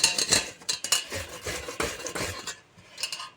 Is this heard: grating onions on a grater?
yes